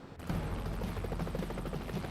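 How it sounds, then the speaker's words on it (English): Marine One, the US presidential helicopter, with a steady rhythmic rotor thump and turbine roar close by, continuous and fairly loud throughout without speech. "he rides on Marine One, a helicopter from this squadron"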